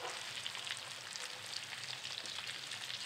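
Onions and carrots frying in a pan at an outdoor evening cook, a dense, even crackling sizzle heard fairly close and steady throughout, with no talking.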